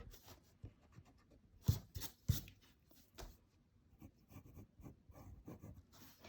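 A pencil eraser rubs on drawing paper in short scratchy strokes, faint and close, with a few sharper taps and brushes between them.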